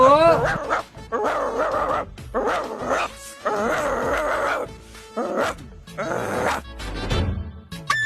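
A dog barks and yips loudly and repeatedly at close range, in quick bursts with short gaps, some barks sliding into whiny tones, while voices can be heard around it.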